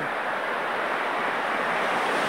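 Steady roar of surf washing onto the shore at Dingalan, Philippines, early morning, a continuous broadband rush with wind noise, no voices.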